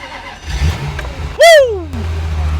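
Ferrari started with a key turn: a brief churn of the starter, then a sharp loud rev that flares and quickly falls away to a low idle.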